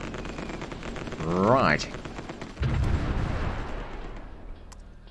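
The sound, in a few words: artillery fire in the video game Supreme Ruler Ultimate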